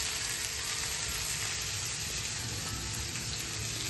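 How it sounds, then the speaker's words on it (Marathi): Marinated pomfret fish fries in a pan, giving a steady, dense sizzle that stays constant and close throughout with no talk. "फ्राय व्हायची पापलेट सुरू झालेली आहे"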